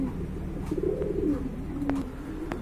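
Large pigeons coo steadily at close range, low throaty calls overlapping in a continuous burbling flock with a few sharp clicks.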